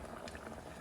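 Liquid boiling in a pot with soft, continuous bubbling and popping, steady and close, with no voices over it.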